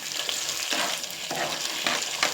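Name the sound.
ginger garlic and tomato frying in pan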